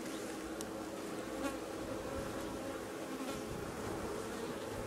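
Honey bees drone steadily across a hive frame during a summer honey harvest, a dense continuous buzz heard close up with no voices.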